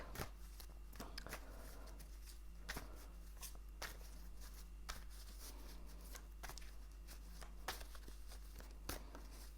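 Tarot cards being shuffled by hand, a continuous soft riffling with repeated crisp snaps and taps, close and quiet with no voices.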